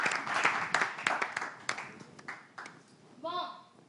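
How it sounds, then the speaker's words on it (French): An audience applauding a candidate at a staged show, with a steady wash of clapping carrying sharp individual claps, fading toward the end as a voice comes in. "Et on l'accueille. Applaudissements."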